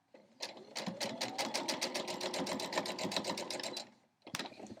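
Sewing machine stitching fabric for a scrappy quilt block, a fast, steady rhythmic run of needle strokes lasting several seconds, close and clear, stopping briefly before a short final burst.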